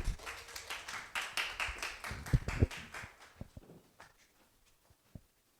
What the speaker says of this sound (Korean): 박수로 맞이할까요?